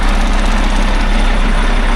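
A 2010 Oshkosh LVSR ten-wheel-drive military truck with a Caterpillar engine and Allison transmission runs steadily, a loud, close, continuous low diesel rumble with no pauses or voices.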